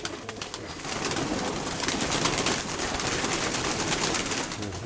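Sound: pigeon cooing

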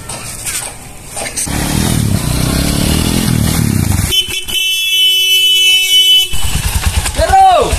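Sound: motorcycle engine and horn honking

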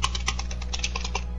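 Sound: typing on a computer keyboard

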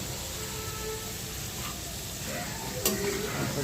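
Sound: potatoes frying in a pan

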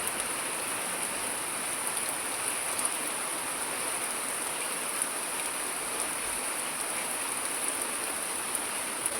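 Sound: rain falling

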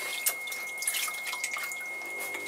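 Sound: water dripping on potter's wheel

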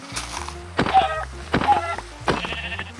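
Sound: sheep bleating in the Minecraft video game

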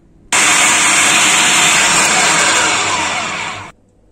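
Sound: mixing sugar, cocoa and chocolate powder for gluten-free ghoriba

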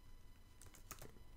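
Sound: typing on a computer keyboard

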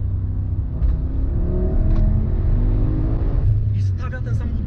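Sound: 1040 HP Audi RS6 R accelerating hard

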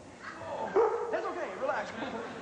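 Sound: dog barking and whimpering on stage

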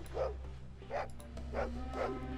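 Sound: dog barking in the video game Fallout 2

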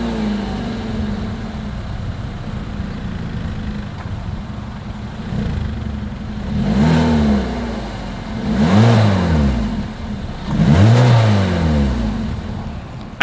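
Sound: car exhaust engine revving

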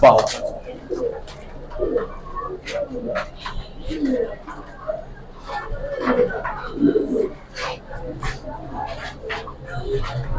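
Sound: pigeons cooing while being handled

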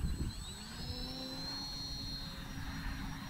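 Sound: FT Freedom Fox V2 RC airplane taking off

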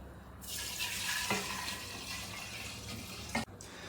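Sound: pouring alcohol solution into a jar of tincture

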